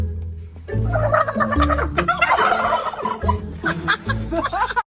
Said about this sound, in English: This girl has the special talent of being able to speak to turkeys